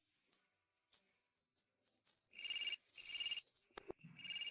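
A telephone rings with bright electronic bursts, first short chirps and then longer, louder rings repeating at a steady pace, near and clear, with a few small knocks in between.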